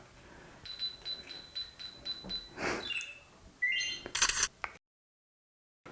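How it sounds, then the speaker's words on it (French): A Ricoh Theta V 360-degree camera on a selfie stick runs its self-timer: a rapid series of high electronic beeps, then a quick rising chirp and a bright shutter sound before abrupt silence, close and clear. "Et si j'appuie, eh ben, j'ai le temps de prendre ma photo avec la canne."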